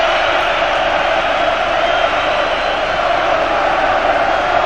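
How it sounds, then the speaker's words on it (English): The Anfield football crowd roars in one continuous, dense wall of cheering and chanting celebrating a victory, loud and unbroken throughout, with no distinct single voices. "They have made an incredible noise, the Anfield crowd."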